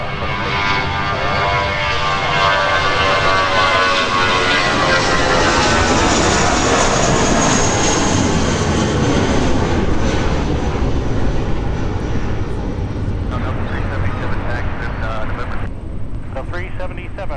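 Airliner at Minneapolis–Saint Paul airport, loud sustained engine roar that builds and slowly fades as the aircraft passes near, with faint voices in the background toward the end.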